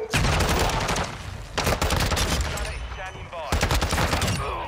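Loud, rapid fire from the ISO Hemlock weapon in a shooter video game, several dense bursts with brief gaps between them, with game speech and effects layered underneath.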